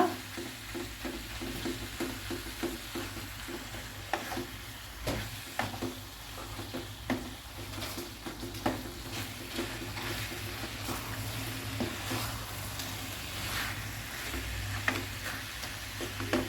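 Chicken masala pieces shallow-fry in a pan with a little oil, a steady soft crackle and sizzle with scattered small pops and occasional utensil taps, moderately quiet and continuous.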